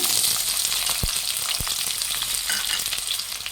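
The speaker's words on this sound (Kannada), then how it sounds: "ಈರುಳ್ಳಿ ಚೆನ್ನಾಗಿ ಫ್ರೈ ಆಗಬೇಕು ಫ್ರೆಂಡ್ಸ್" Onions frying in hot oil for Guntur-style chicken, a loud, dense, continuous sizzle right up close, with two dull thumps partway through and no voices.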